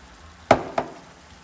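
A spoon stirs crushed tomatoes and passata into a pan of bolognese sauce, making two quick wet scraping knocks close up, followed by a faint sizzle.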